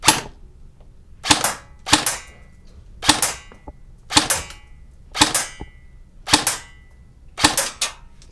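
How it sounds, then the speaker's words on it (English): Elite Force M4 airsoft rifle firing single shots through a chronograph: seven sharp, loud cracks at irregular intervals, some closely paired, with quiet pauses between. "if you'd like to chrono it, you can go ahead and just aim straight through the chrono"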